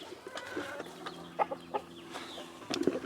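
Hens inside a backyard coop give soft, scattered clucks and short calls, close by and fairly quiet, with a louder burst of clucking near the end.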